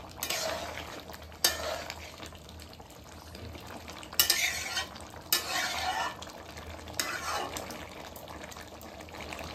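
Cumin powder is stirred into a pointed gourd and shrimp curry in a pan, with several distinct scraping stir strokes over a soft, steady simmer, close by and fairly quiet.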